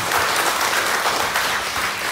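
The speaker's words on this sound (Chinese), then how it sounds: "来给掌声给他们" An audience at a memory-training seminar claps steadily, a dense, even burst of applause from a room full of people lasting a couple of seconds.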